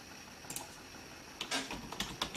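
Quiet keystrokes come in small bursts, clicking on a keyboard connected to an Android TV box.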